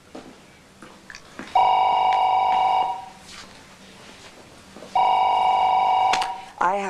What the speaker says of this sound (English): I have to take this phone call in private.